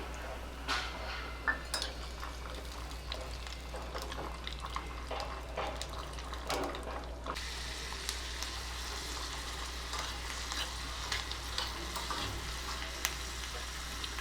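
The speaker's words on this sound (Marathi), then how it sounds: "आता याच्यातच तुपातच मी शेंगदाणे पण तळून घेणार आहे" Peanuts fry in ghee with a steady crackling sizzle, accompanied by frequent light scrapes and clinks of a utensil stirring in the pan, moderately close and without speech.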